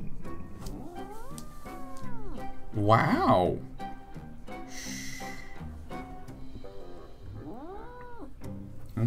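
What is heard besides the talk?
grumpy cat growling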